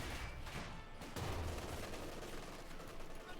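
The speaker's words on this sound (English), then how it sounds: "Double 6-pounder guns, there we go. Double firing on the Panther boy, needs to fall back." Two 6-pounder anti-tank guns firing in Company of Heroes 2 amid a dense, continuous din of battle, with heavy blasts and rattling gunfire blending together at moderate volume.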